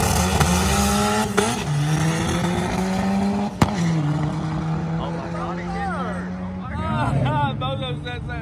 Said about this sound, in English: the car was breaking up really bad in second, third, and a little bit in fourth also